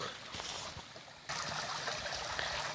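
River water runs into an old abandoned watermill, making a steady rushing trickle that jumps louder partway through as the source draws nearer, with no voices.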